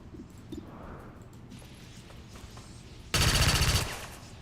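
Gunfire in the video game XCOM 2: a short, loud burst of automatic weapon fire erupts near the end after quiet ambient game sound.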